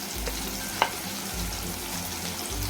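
Spices, including asafoetida, red chilli powder and Kashmiri masala, sizzle in hot oil for dal khichdi, a steady close frying hiss with a soft stir and one sharp utensil tap.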